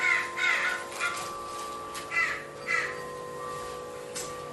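Several crows caw in repeated harsh calls at irregular intervals, fairly close, over a faint steady electrical hum.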